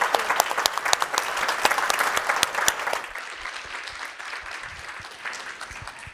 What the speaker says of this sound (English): can we give, please, a big round of applause to our panel today.